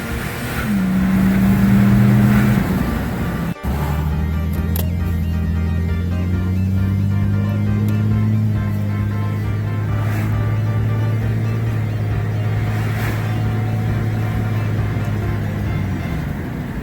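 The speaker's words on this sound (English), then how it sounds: "let's take you for a drive and show you what this car can do" A Holden with a Barra turbo conversion drives and accelerates, its engine droning loud and close with rising revs, a sharp shift break, then a sustained low rumble as it pulls through the gears.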